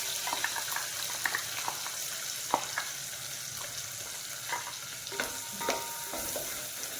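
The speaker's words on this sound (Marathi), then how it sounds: "वाटलेला मसाला चांगला परतून घ्यायचा आहे." Ground masala sautés in oil for a homestyle mutton curry, a soft steady sizzle with occasional scraping stirs and light clicks, fairly quiet and without talk.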